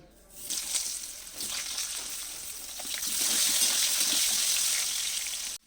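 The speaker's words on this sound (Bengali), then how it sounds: "গরম তেলের মধ্যে আমি আলুগুলোকে দিয়ে দিচ্ছি" Potatoes dropped into hot oil in a wok, giving a steady broadband sizzle that builds and stays loud and close for several seconds before cutting off.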